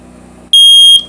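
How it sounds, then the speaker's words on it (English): A smoke alarm inside a 2021 Thor Four Winds 22E Chevy motorhome sounds one loud, piercing electronic beep about half a second long, close by, between stretches of quiet room noise. "Smoke alarm."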